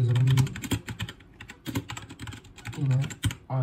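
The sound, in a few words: typing on T60 mechanical keyboard with red switches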